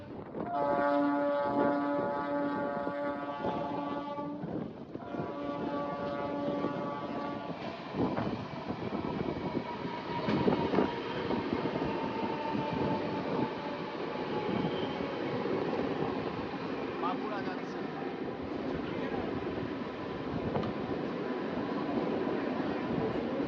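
The inaugural Purulia–Howrah MEMU train via Bankura rumbles steadily along the rails with a sustained horn-like tone at the start, continuous clatter and hum throughout, fairly loud and close.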